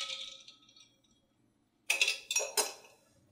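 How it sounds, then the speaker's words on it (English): A spoon stirs a strawberry lavender gin and tonic in a glass. After a faint, quiet opening come three bright, close clinks of metal against glass in quick succession. "You're going to want to give it a little bit of a spin just to stir up all the ingredients lightly."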